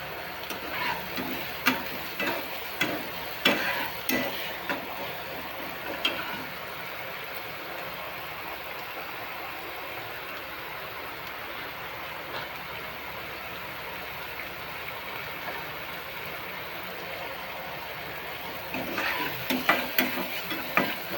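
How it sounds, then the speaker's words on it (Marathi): Onion roasting in a pan with a little salt for vatana batata bhaji, a faint, steady low sizzle with occasional soft knocks of stirring, more frequent at the start and end. "चांगला भाजून घ्यायचा कांदा."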